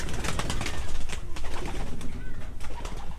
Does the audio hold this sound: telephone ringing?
no